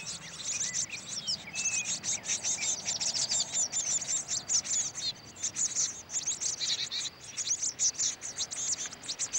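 Blue tits call at a nest box with rapid, high chirps and twitters that repeat continuously, bright and fairly close against quiet outdoor air near a wood.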